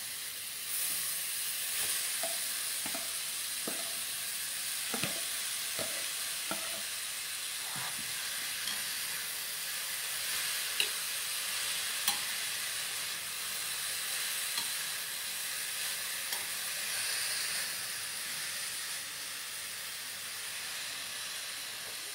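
Carrots stir-frying in a pan, a soft, steady sizzle and hiss running throughout, with a few light taps and scrapes of stirring, faint and close.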